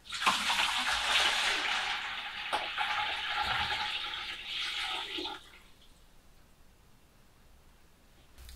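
About 4.6 litres of water pours steadily into a smart filter system for distilling, a loud, close, splashing rush that lasts around five seconds and then stops, leaving quiet.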